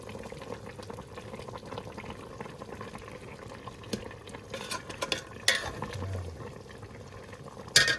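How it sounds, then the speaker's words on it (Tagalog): Fish stew simmers and bubbles in a pot on a home stove, a dense low crackle running throughout, with a few utensil clinks and a louder scrape near the end. "Kukuloyin lang natin sandali pa."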